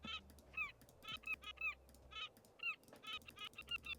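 Seagull calls from the video game Tiny Bookshop, a run of short, bright squawking cries repeating in quick bursts over a low steady background hum, with no talking.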